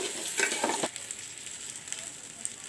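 Basmati rice frying in a pan, a soft steady sizzle with a brief burst of stirring clatter near the start, then a quieter continuous hiss.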